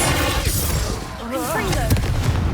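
The Bombarda explosion spell cast in the video game Hogwarts Legacy gives a dense, rumbling blast and crackling debris, loud and continuous, with a voice heard in the middle of it.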